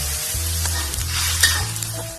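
Mushrooms stir-frying in a pan for a vegetarian stuffed tofu dish, with water just added, give a steady close sizzle and hiss under a low continuous hum, with scraping stirs throughout.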